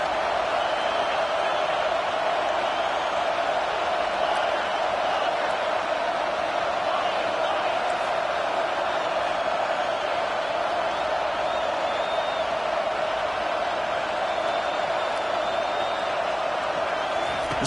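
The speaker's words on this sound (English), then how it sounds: "This crowd looking for a big fourth down stop." Stadium crowd in the College Football 25 video game, a constant wall of roaring noise with faint cheers rising now and then, a commentator talking over it at times.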